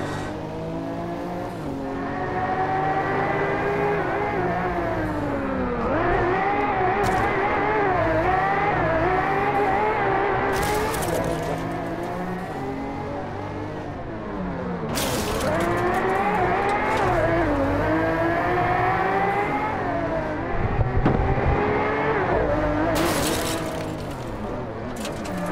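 Race car engine in Driveclub VR, revving and shifting through gears in long rising sweeps with brief drops between, tyres squealing and scrabbling as the drifty car slides, loud and close throughout.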